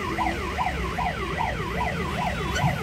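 An ambulance siren wails in a traffic jam, a fast, repeating rising-and-falling yelp cycling about every third of a second, loud and fairly close over low traffic rumble.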